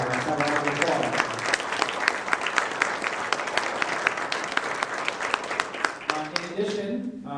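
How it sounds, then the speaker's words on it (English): An audience applauds a choir student accepted into the District 12 choir, steady dense clapping filling a hall for several seconds before thinning out near the end as a voice resumes. "Let's have a round of applause."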